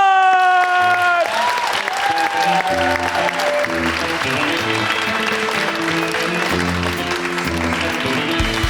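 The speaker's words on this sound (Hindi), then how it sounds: "दोबारा आपने जोर से तालियां बजानी है" Studio audience applause welcoming a guest onto a talk show, a steady wash of clapping that runs the whole time beneath loud music with sustained tones and a rhythmic bass beat.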